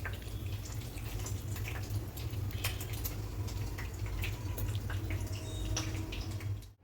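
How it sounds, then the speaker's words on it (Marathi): Water draining off boiled soybean chunks in a kitchen, a faint continuous trickle and patter with small drips, steady throughout and without speech. "आता आपण जे सोयाबीन केलं होतं त्याच्यातलं जे पाणी आहे तसं निथरून घ्यायचं आहे"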